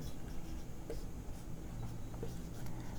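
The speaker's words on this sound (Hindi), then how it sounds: "पहले हम गिवन लिखेंगे" A pen scratches across paper while a math example is written out, giving faint, continuous scratchy strokes with small irregular bursts, quiet and close, with no speech.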